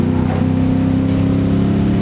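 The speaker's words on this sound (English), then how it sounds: "I just gotta scrub my speed and engine brake a little bit" A 2005-2009 Ford Mustang GT with a 3-valve V8 and a heavy manual clutch engine-brakes while slowing for a corner, giving a steady, loud, droning engine tone that drops in pitch slightly early on and then holds even.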